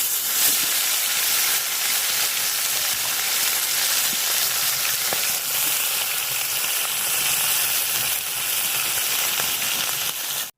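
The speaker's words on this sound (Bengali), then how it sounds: "মাছগুলা দেখেন আমি লাল লাল করে ভাজা নিচ্ছি" Tilapia fish frying in hot oil, a loud, dense hiss and crackle that runs unbroken and close throughout, with a few faint clicks beneath and no voices.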